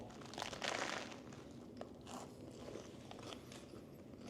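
A bite into a crunchy crisp sandwich, buffalo-flavoured Hunky Dory crisps squashed between bread, gives a few close, crackly crunches near the start, then quieter chewing and crinkling.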